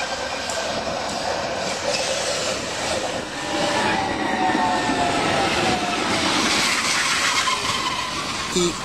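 A TEB five-section, low-floor, bidirectional articulated tram of 424 kW on the Bergamo–Albino line, running with a steady rolling rumble and a rising electric whine under a continuous hiss, fairly close and sustained.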